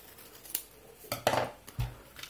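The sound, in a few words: cutting a small part of the Raspiboy assembly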